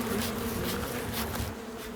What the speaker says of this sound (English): Many beekeepers boast about the relaxation that comes from the sound of working bees.